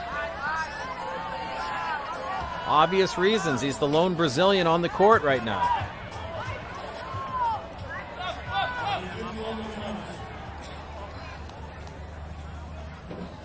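Crowd noise at a beach volleyball match in Brasilia, a steady murmur and cheering from spectators running beneath a commentator's voice throughout.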